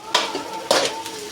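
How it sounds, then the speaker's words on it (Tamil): Cut carrot, beans, cabbage, capsicum and green chillies tipped into a pan and stirred, with two loud metallic clatters of utensil on pan and a faint sizzle between. "இப்போ நான் வந்து நம்ம கட் பண்ணி வச்ச வெஜிடபிள்ஸ்லாம் நான் போட்டுடுறேன்"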